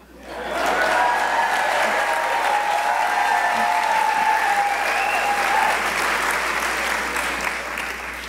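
Sustained applause from a conference audience at a political speech, swelling within the first second and holding steady and loud throughout before easing slightly near the end.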